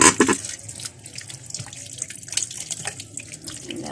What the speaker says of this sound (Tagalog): Hugasan muna natin siya.